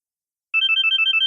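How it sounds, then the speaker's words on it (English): A mobile phone ringtone starts after a moment of silence and plays a quick, steady run of bright electronic beeps, loud and close, with no talking. "Why is your phone on?"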